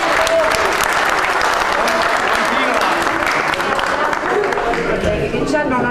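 Crowd applause for a politician at a public event in Maletto, Italy, steady and loud throughout, a dense wash of clapping with scattered cheers and voices underneath.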